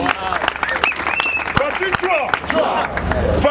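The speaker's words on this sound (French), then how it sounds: "Applaudissez très fort pour nous." Audience applause at a lively church gathering, clapping rising under singing and shouting voices, steady and fairly loud throughout.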